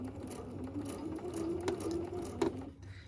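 Domestic sewing machine stitching fabric for a small project bag, with a steady close mechanical whirr and a couple of sharper clicks near the end, alone without voices.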